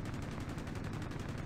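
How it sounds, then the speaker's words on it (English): Machine gun fire in the B-17 The Mighty 8th flight combat game, a fast continuous burst of rapid rattling shots that holds steady and fairly quiet with no voices. "that's pressing the machine gun firing button"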